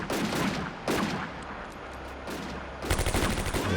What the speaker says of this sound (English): Mostly shooting happens on our end.